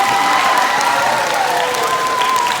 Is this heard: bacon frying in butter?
no